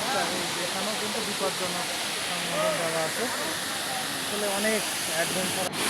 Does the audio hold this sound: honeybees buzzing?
no